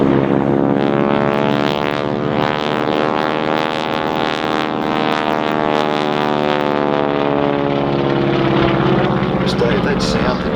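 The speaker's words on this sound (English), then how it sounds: "when you heard the aircraft take off, those propeller tips are actually going supersonic. That's the noise that you can hear." T6 Harvard aircraft at the Point Cook airshow, where propeller tips go supersonic on takeoff, produce a loud, harsh rasping engine and propeller roar with rising and falling tones, sustained for over ten seconds with commentary speech underneath.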